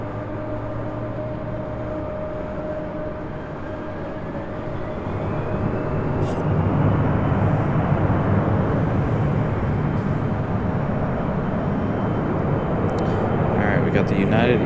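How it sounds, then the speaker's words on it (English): A United Embraer E175 regional jet taxis at Raleigh-Durham airport, its engine hum and whine swelling louder about halfway through, with someone talking over it. "We got the United E-175 getting a move on finally."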